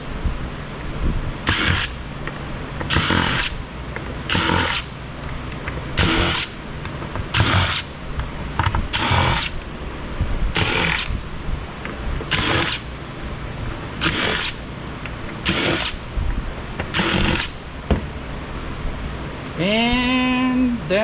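Driver backing screws out of an Extreme Networks dual radio access point during e-waste scrapping, a series of short sharp bursts repeating every second or so, close and fairly loud.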